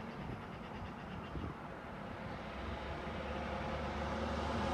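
A Freightliner class 66 diesel goods train passes through Market Harborough station as a low, rumbling roar that grows steadily louder while it approaches.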